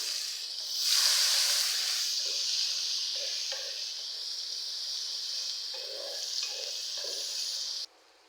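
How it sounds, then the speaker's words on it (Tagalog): Onions dropped into hot oil for fish majboos, giving a loud burst of hissing sizzle that settles into a steady, close frying hiss with faint stirring, then cuts off abruptly near the end. "Sa same oil, ilagay natin yung sibuyas"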